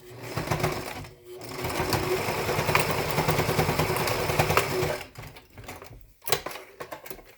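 A sewing machine stitches a pleat on a three-layer fabric procedural mask, running in a loud close whir for about four seconds, pausing, then a few shorter bursts; no talk.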